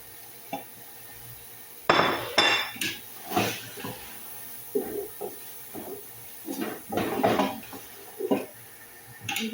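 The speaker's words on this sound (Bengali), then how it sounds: "এখানে এখন মশলা আমি ঢেলে দিলাম।" Spices tip into a pan of frying onion, garlic and ginger, followed by scattered clinks and scrapes of a utensil against the pan, with a soft sizzle underneath.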